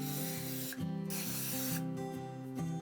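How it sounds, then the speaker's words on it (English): A steady, close hiss of non-stick cooking spray being sprayed into a baking pan runs for nearly three seconds with a couple of brief pauses, no talking. "I'm just going to spray it with some non-stick spray"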